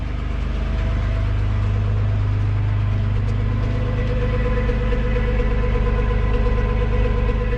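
A Nissan R31 Skyline's engine idles steadily up close with a small exhaust leak, a low continuous rumble with a slight rough, uneven edge, running alone without any talk.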